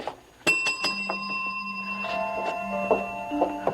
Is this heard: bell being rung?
yes